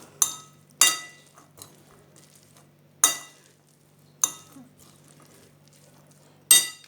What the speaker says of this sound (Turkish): Mercimekten sonra mısırları ekliyorum. Şöyle bir karıştırayım bakalım.